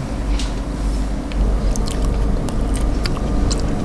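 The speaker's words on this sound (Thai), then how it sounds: "ขนาดรอเราก็กินผลไม้ เพื่อสุขภาพ" Wet squishy chewing of fruit in Mirror's Edge while waiting for an elevator, close and fairly loud, with soft clicks and moist bites over a dense low background rumble.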